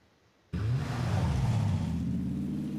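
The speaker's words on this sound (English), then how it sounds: "We're driving down the hill" A car engine in the video game PlayerUnknown's Battlegrounds starts up abruptly and keeps running with a steady low rumble, fairly loud and close, with no voices.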